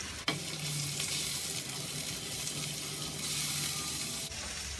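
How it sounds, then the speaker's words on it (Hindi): Coarsely chopped tomatoes frying in a pan for chicken tikka karahi, a steady, fairly quiet hiss of sizzling that runs unbroken after a sharp initial clatter as they go in. "मैं इसमें डाल दूंगी 3 टमाटर, चॉप कर लिए मैंने मोटा मोटा, और इसे भी भून लेंगे"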